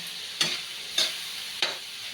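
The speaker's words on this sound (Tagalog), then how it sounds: "ihalo natin ang corned beef sa sayuti para kumain sila" Corned beef being mixed into sautéing chayote in a pan: a soft, steady sizzle broken by three sharp scraping stirs of a spatula, spaced about half a second apart, with no one speaking.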